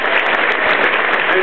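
Brief burst of audience applause at an evening charity event at Sheraton Forest honouring volunteers, steady dense clapping lasting just over a second with a few scattered sharper claps.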